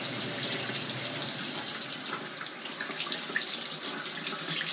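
Tap water runs steadily into a sink as catfish is rinsed under it before frying, a close, continuous splashing stream with some irregular spatter.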